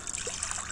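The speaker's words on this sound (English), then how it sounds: "Water." Water trickles steadily and softly throughout, a close, continuous dribble in a workshop while copper cone-shaped dart points are being made with pliers.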